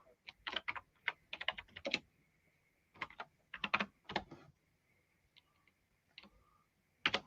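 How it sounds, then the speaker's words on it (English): Bursts of rapid, clattery computer keyboard typing, close and fairly loud, separated by short pauses, with a few isolated key taps near the end. "Sorry, this keyboard's noisy."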